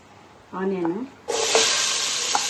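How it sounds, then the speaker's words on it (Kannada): Onions and spices hit hot oil in a pan and sizzle loudly and steadily, after a short spoken comment just before they go in. "ಆನಿಯನ್ ಎಲ್ಲ ಒಂದು ಸ್ವಲ್ಪ ಬ್ರೌನ್ ಆಗಲಿ."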